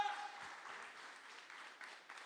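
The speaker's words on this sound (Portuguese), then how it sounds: "Aplauda o Senhor, faça barulho." Church congregation applauding together, a steady broadband patter of many hands held at moderate level for a couple of seconds, with faint voices mixed in.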